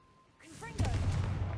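A Confringo blasting spell cast in Hogwarts Legacy, a short rising whoosh that ends in a loud fiery burst lasting about a second, with a brief spoken word just before it.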